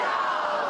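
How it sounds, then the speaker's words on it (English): Tens of thousands of protesters on a hikoi march cry out together along Wellington's Golden Mile, a dense sustained roar of voices echoing between city buildings, heard briefly and at a distance. "The protest cries of tens of thousands echoing through the capital."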